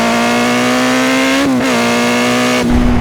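A Yamaha Fazer 600 S four-cylinder motorcycle revs hard and loud up through the gears, a steady rising engine whine broken by a quick gear change midway and another shift near the end, close and with no talk.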